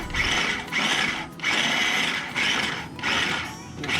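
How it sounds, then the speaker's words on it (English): A food processor pulses smoked vegetables for sloppy joes, giving several loud whirring bursts separated by short pauses, close by. "I'm just going to put them in this food processor instead of slicing them with a knife."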